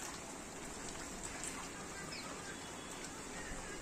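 Steady, faint rainfall patters continuously, a soft even hiss with scattered drops and no other sound standing out.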